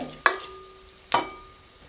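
Whole spices, including fennel seeds, sizzle in hot oil, with two sharp stirring scrapes or clatters standing out over a soft, steady frying hiss.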